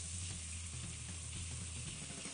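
Hot water added to a pan of lightly seasoned food, giving a steady, dense sizzle and frying hiss that stays loud and even throughout, with no voices.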